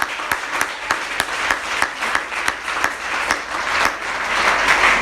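A church congregation applauds the Lord with steady, dense clapping that continues throughout, close and lively with sharp individual claps standing out, building slightly louder toward the end.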